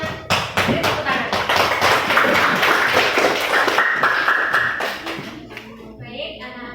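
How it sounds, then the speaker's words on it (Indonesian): Schoolchildren in a classroom clap together. The applause is quick, irregular and fairly close, then fades out as children's voices and chatter take over near the end. "Semuanya beri tepuk tangan."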